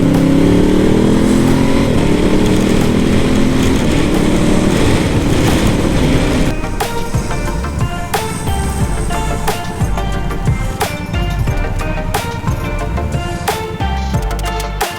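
A Honda Africa Twin motorcycle fitted with a Cordona quick shifter revs hard through a gear change without the clutch, the engine note dropping abruptly and settling into a loud, close, throbbing run.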